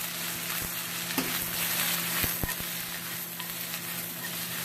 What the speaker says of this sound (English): Saute and fry everything here.